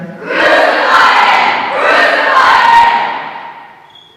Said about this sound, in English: The crowd cried.